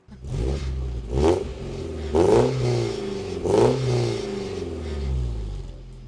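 A Nissan Silvia S13 with a custom exhaust made in Japan revs up four times in close succession, each throttle blip rising and falling sharply over a steady idle. The car is loud and close, with no voices.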